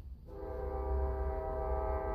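A train horn sounds close by: one loud, sustained, steady blast rising out of low rumbling background noise and holding through to the end, with no talking.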